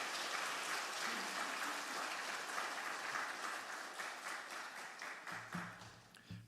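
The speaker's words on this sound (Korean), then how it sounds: "크게 박수로 하나님께 더욱더 영광 돌리며 맞이하도록 하겠습니다." A church congregation at Sunday worship applauds to welcome a guest pastor, a sustained full clapping from the room that gradually thins and fades toward the end.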